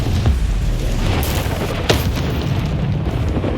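Confringo spell explosion in the Hogwarts Legacy video game, a loud booming blast with a sharp burst near the middle over a sustained heavy rumble.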